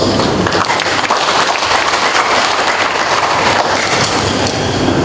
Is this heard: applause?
yes